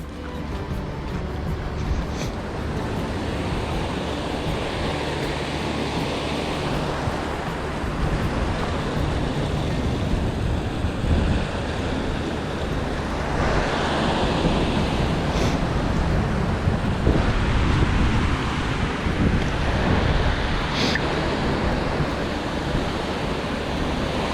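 Heavy rain and gusting wind batter a coastal walk at Perranporth, Cornwall, making a continuous loud broadband roar with wind buffeting the microphone and occasional surges of surf-like rushing, no voices heard.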